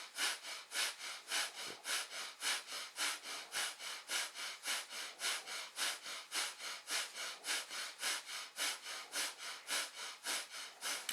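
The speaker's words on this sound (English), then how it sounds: "Every time you're up, you're inhaling, down you're exhaling, breathe through your nose. This is breath of fire." Breath of fire, a rapid yogic breathing done through the nose, heard as a steady train of quick, even, forceful nasal puffs, close and clear, with no talk.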